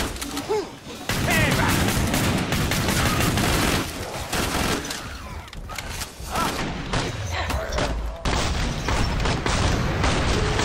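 Heavy gunfire from Killing Floor 2 comes in dense, loud bursts of rapid shots and booming impacts with brief lulls in between, while players chatter over the game noise.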